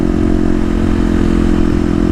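A 2018 Kawasaki KLX250 dirt bike with a header, slip-on exhaust, snorkel and fuel controller drones loud and close, its engine idling or running steadily with a rough, even exhaust note.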